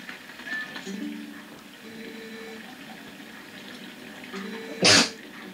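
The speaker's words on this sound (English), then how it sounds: "I sneezed." A single sharp, loud sneeze bursts out near the end, after several seconds of quiet background hum and faint shuffling.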